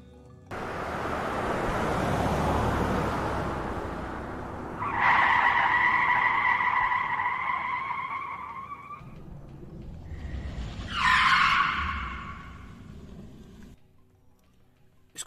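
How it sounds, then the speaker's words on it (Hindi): A car starts and speeds away, a rising engine roar followed by two long, loud tire squeals as it skids, with the noise fading out at the end. "गाड़ी स्टार्ट कर जल्दी।"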